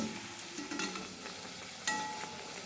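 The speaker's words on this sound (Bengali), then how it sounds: "আমাদের গরম তেলের মধ্যে প্রথম হিঙের কচুরিটা ছেড়েছি" Hing kachori deep-fry in hot oil with a soft, steady sizzle and bubbling, faint and close, with a brief clink near the end.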